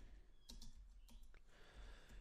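Typing code on a computer keyboard, a few quiet, scattered key clicks at close range over faint background hiss.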